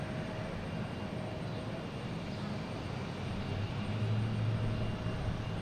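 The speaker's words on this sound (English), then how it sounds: "I gotta love these turboprops" Turboprop airliner landing at Boston Logan Airport, a steady broad engine drone with a low propeller hum, moderately distant and continuous, swelling slightly toward the end.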